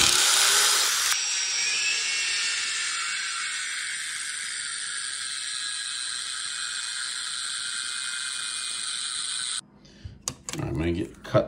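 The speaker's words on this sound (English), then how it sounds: "I'm going to grind in a groove on the top of these lids and put a wick in" An electric grinder cuts a groove into the top of jar lids, a loud, steady high-pitched whine lasting about eight seconds before stopping, followed by a few brief handling clatters.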